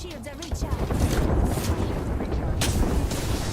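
Bangalore's ultimate artillery strike in a battle royale shooter, a rolling barrage of booming impacts rumbling continuously under game noise and someone talking.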